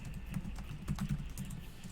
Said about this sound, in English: Finish typing.